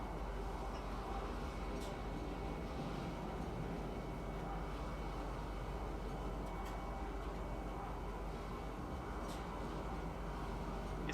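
Train ride in the video game Star Citizen: a steady, continuous rumble of a moving train with a constant broadband roar and occasional faint clicks, heard from inside, moderately quiet and alone.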